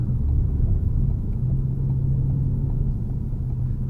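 A Ford Focus ST MK3 with a Revo Stage 2 tune accelerates in fourth gear, its engine giving a loud, steady low rumble with road roar that holds constant throughout and no voices.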